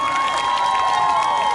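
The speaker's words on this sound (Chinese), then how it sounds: "掌声给自己。" Concert crowd at an outdoor evening opening-night show in a park applauds and cheers, a brief busy wash of clapping under a loud sustained musical tone and accompaniment.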